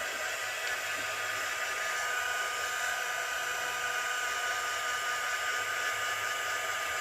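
A hair dryer blowing on a painted wooden cabinet runs as a loud, steady whine with a constant airy rush, unbroken and close for the whole stretch.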